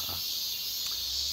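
Cicadas drone in the background on a late-August summer day along an abandoned railway hike in Shinshu, a steady, dense high-pitched buzz filling the whole stretch with no voices.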